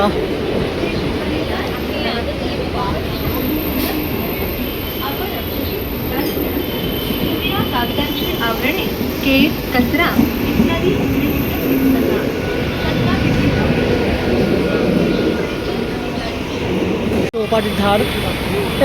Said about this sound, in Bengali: আমাদের ছেড়ে চলে গেল ট্রেনটা